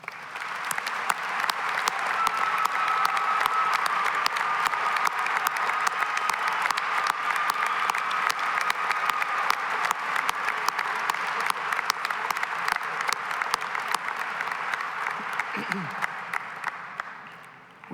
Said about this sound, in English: Will everyone please join me in expressing our gratitude with a round of applause?